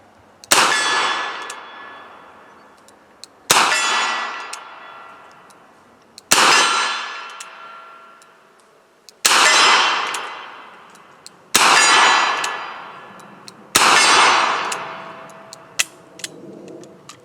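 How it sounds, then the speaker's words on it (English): A Smith & Wesson Governor revolver fires .45 ACP double action: six loud, close shots spaced two to three seconds apart, each ringing out briefly, with faint clicks between them. "we're gonna do this cylinder double action and see what we get."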